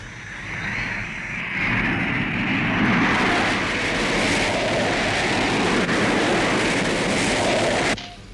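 Interceptor aircraft roar past, the jet noise swelling from a quieter start into a loud, sustained broadband rush before cutting off abruptly near the end.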